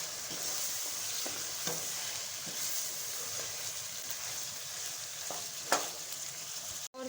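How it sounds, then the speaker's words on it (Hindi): Mutton fries in separated oil for namkeen gosht as salt is stirred in, a constant hissing sizzle with occasional spoon scrapes and one sharper knock near the end, without voices. "अब हम 1/2 टीस्पून नमक ऐड करेंगे और मिक्स करेंगे।"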